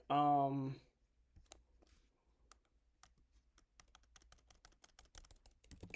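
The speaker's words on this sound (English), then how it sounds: "I'm clicking every name" A computer mouse clicks in quick, irregular bursts of light taps, growing busier toward the end. Someone speaks briefly at the start before the clicking takes over.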